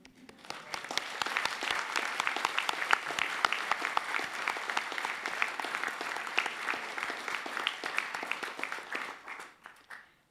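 A large audience at a university graduation ceremony for the Faculty of Design, Architecture and Building claps steadily for about ten seconds, a dense, sustained round of applause that fades out at the end.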